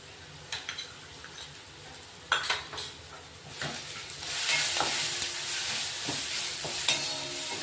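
Onion with a spoon of turmeric fries in a pan, scattered spoon scrapes and clinks against the metal, then a sizzle that swells loud and steady while stirring continues.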